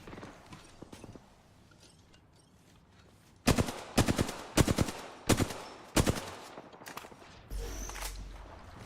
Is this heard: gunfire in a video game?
yes